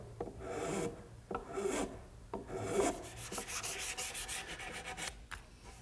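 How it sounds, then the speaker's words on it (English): A rasp rounds over the back edge of a wooden tread on a Shaker step stool, making steady, scratchy back-and-forth strokes. The rasping is quiet and close, with no talking. "I'm just going to use my rasp and a little bit of sandpaper."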